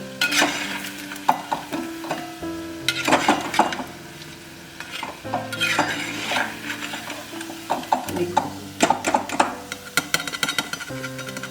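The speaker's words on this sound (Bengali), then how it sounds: "আমি পালতুয়াগুলো লাল লাল করে ভেজে তুলছি" Sweet potato pantua sweets frying until red in a pan, with a steady sizzle beneath repeated clinks and scrapes of a utensil stirring and lifting them, close and moderately loud, no voices.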